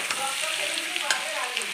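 Potatoes and onions frying in a pan make a bright, continuous sizzle, close and even, with a few soft scrapes of stirring.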